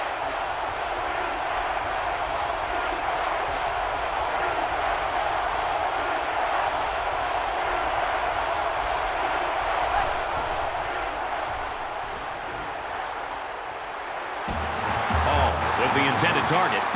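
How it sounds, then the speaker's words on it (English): Steady roar of a stadium crowd at a football game between Ohio and UCLA, a dense continuous wash of voices throughout that swells louder near the end. "Really a factor with the crowd noise here."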